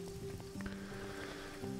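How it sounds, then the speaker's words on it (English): Rain falls in the video game The Good Life as a steady, soft patter and hiss, with sustained in-game music tones playing over it and no voices. "Oh, it's raining."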